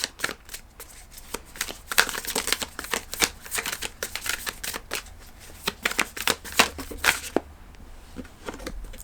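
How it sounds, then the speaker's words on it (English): Tarot cards being shuffled and pulled from the deck, a close run of crisp riffling and flicking bursts in uneven rhythm with no talking. "let me pull one last card for the middle"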